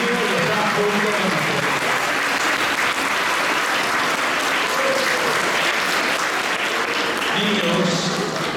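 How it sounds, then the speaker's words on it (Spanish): A church congregation claps for the Virgen del Carmen at a parish celebration, loud sustained applause throughout with voices and shouts mixed into the crowd noise. "Un gran aplauso a la Virgen del Carmen"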